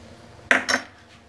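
A spoon clinks twice against a bowl while mixing dough with hot oil for jeera shankarpali: two quick, close metallic knocks in otherwise quiet surroundings.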